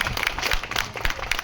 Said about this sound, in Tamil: இதெல்லாம் நல்லா கைதட்டுங்க.